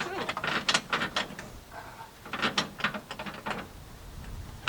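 A ratchet loosens the hose clamp on the radiator hose of a 1969 Olds Vista Cruiser, with bursts of quick close clicking strokes separated by short pauses.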